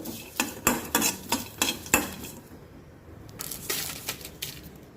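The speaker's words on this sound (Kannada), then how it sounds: "ಇದನ್ನು ಸ್ವಲ್ಪ ಡ್ರೈ ರೋಸ್ಟ್ ಮಾಡ್ಕೊಳ್ಳೋಣ" Spices dry roasting in a pan for mango pulimunchi, with a series of sharp scraping, clinking stirs close by, fairly loud at first and then softer, with no talk.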